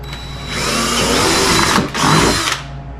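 A power drill whirs in short bursts while someone works on a KRX 1000 side-by-side in the cold, loud and close, the motor briefly dropping out and then spinning up again.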